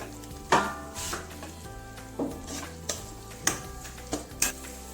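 Ginger garlic paste and masala frying in a pan for a capsicum curry, with a steady sizzle under repeated scrapes and clinks of a spoon stirring against the metal.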